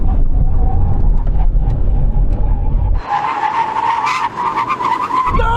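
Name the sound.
Aston Martin cars braking hard and skidding in brake test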